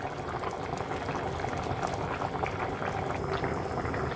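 A fish curry with tomatoes and vegetables simmers in a pot, giving a continuous close bubbling and gentle popping of thick liquid that stays steady throughout.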